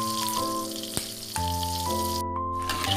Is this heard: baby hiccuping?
no